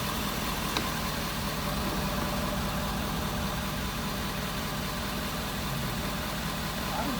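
A damaged 2016 Ford F350 pickup truck idles with a low, steady engine rumble at moderate distance. The sound stays constant with no audible shutdown.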